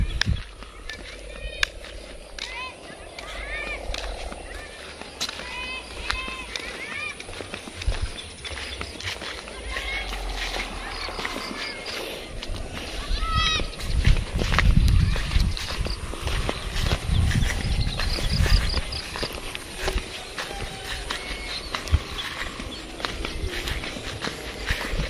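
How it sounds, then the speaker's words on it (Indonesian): Horse hooves clip-clopping as a horse is ridden near rice paddies where kites are flown, steady outdoor steps with some low rumble and wind, continuous through the clip. "naik kuda."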